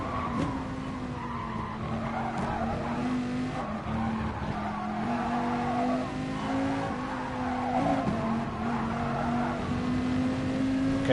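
Tires on a race car scrub and squeal in a four-wheel slide at Spa in a racing video game, a steady tonal skid that runs the whole time over an engine drone.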